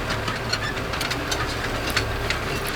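A farm tractor engine runs steadily while discing a food plot, a constant low rumble with faint rhythmic knocks, close and alone without talk.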